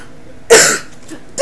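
A single sharp cough burst from a person overcome with excitement, loud and close, tailing off over a fraction of a second, with a faint breathy sound after and the start of another sound at the end.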